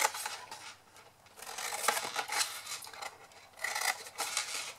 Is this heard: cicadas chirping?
no